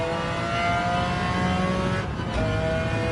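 McLaren race car engine in a racing video game drones loud and close, with steady harmonic whine, a brief dip as if shifting or lifting, then holding high revs again.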